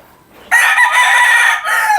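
Gamefowl stags of Perfection Cross and Boston Cross lines, round heads with pea combs, crow loudly and close by in one sustained crow lasting about a second and a half, with no talk over it.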